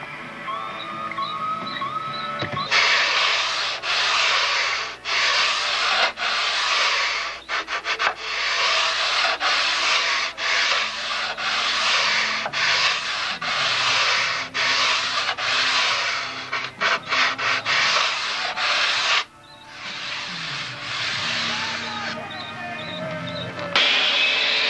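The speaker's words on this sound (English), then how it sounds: "getting a nice smooth radius right in the front, using a sanding block" Rhythmic back-and-forth rasping of a sanding block on wood, close and loud, with regular strokes and a couple of brief pauses.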